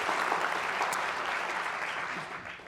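An audience applauds at a talk event, a steady wash of clapping at moderate distance that tapers off slightly toward the end.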